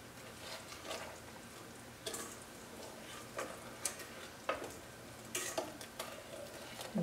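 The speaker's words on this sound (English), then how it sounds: "We'll stir that in." A spoon stirs sugar into teriyaki sauce in a pan, making soft scraping and light clinking against the metal in irregular bursts, fairly quiet and close with no voices.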